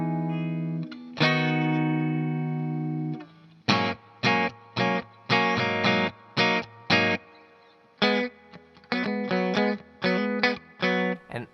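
An electric guitar plays the pre-chorus walk-up of a song, opening on sustained chords and then moving into a rhythmic run of short, choppy stabs that climb step by step. The tone is clean, close and alone.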